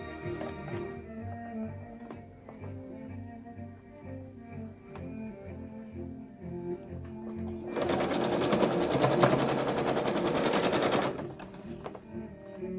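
A sewing machine stitches together the sides of a simple handbag. After a quieter, intermittent mechanical patter, a loud, steady run of rapid stitching lasts about three seconds, close by with no talking.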